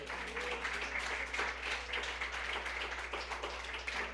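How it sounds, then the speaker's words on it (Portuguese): A church congregation applauds during a sermon, producing a faint, continuous patter of many hands clapping at a distance over a low steady hum. "aplauda o Senhor Jesus"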